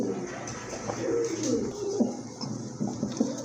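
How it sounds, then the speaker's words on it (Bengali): Large silver exhibition pigeons, shown as a pair for sale, coo in soft, repeated throaty phrases close by, with low, steady murmuring from the birds throughout. "এটা কিন্তু অনেক বড় সাইজের কবুতর"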